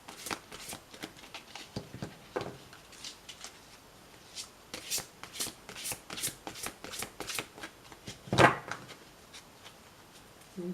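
Oracle cards shuffled by hand, a steady run of quick papery riffles and soft flicks with one louder slap near the end as the deck is cut, close and clear with no talking.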